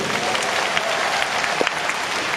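An audience at a 2019 ice show fan meeting claps steadily, with crowd noise filling the space throughout.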